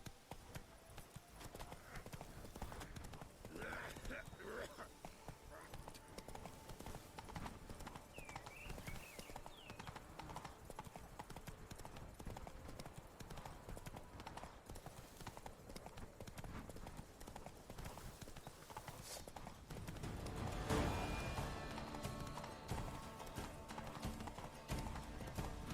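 Hooves of Roach, Geralt's horse in The Witcher 3: Blood and Wine, clop in a rapid, steady galloping rhythm throughout. The sound is faint and sits under game ambience, with a louder rush of noise near the end.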